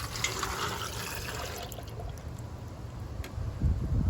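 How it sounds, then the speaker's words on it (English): Four cups of water poured into an Instant Pot for cooking pasta, a steady close pour that thins to a trickle before a louder slosh at the end. "now we're going to add 4 cups of water"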